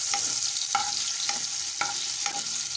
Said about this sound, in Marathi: आता मी कांदा घालत आहे, बारीक चिरून घेतलेला कांदा परतून घ्यायचा आहे